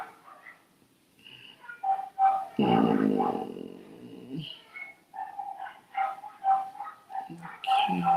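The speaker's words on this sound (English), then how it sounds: "y'all hear the dogs out there barking?" Several short dog barks and yips ring out at a moderate distance in irregular bursts, mixed with a voice talking and a louder rumbling stretch midway.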